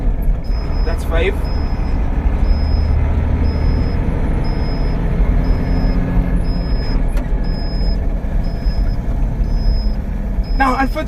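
A Tata LPT 1216 truck drives with a loud, steady engine rumble and a regular high beeping. A few sharp hissing bursts suggest air braking, and people talk over it inside the cab.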